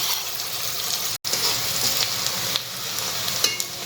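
Chopped red and green onions sizzling in a hot pan for a street-food masala bun filling: a continuous, close, loud frying hiss with light stirring and one split-second cut-out near the start.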